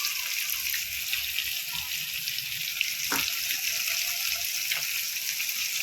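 Bangda mackerel frying in oil in a flat pan, a steady close sizzle and crackle running throughout, with a brief faint clink partway through.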